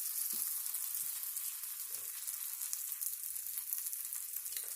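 Yam fritters fry in a pan with a constant, soft hiss of sizzling oil, heard close and even throughout, with a few faint low bumps and no talking.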